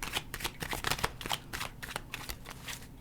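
A deck of tarot cards is shuffled close by in quick, repeated riffling bursts of crisp paper flutter, with no voices.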